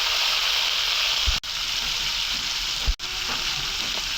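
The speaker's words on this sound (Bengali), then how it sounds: "আর আলুটা একটু হালকা ভাইজা নিই।" Potatoes fry lightly in a pan with a dense, continuous sizzle and crackle up close, broken by two brief dips where the frying noise momentarily drops away.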